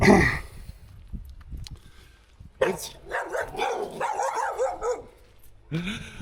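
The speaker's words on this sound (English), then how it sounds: "So dogs are one of the things that you'll find here in Tonga" Dogs bark in Tonga, a few sharp nearby barks and yips followed by a rapid run of louder barking, then another burst, with no one talking.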